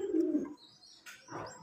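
Pigeon cooing up close, a short low soft coo followed by a faint second call, quiet and alone.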